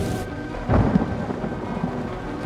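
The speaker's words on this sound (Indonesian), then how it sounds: "Dalam badai hujan deras" Heavy rain pours steadily through a thunderstorm in a horror film scene, with a low thunder rumble swelling briefly near the start. No one speaks.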